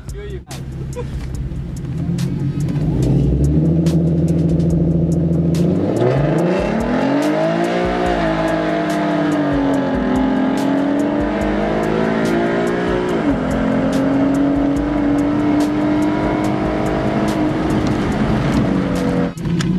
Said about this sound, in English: Racing this boy in a G35, I think.